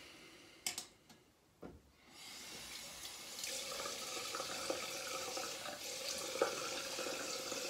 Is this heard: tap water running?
yes